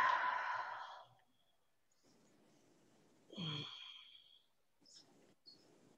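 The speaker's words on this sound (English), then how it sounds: "Take a couple breaths." A long, breathy exhale opens the stretch and foam-rolling class, followed by quieter breaths and faint rustling. It is close and soft, with no talking.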